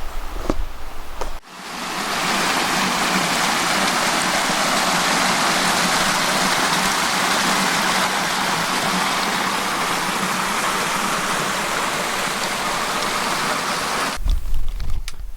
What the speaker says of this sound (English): we hear the water in the distance, so I think we're getting close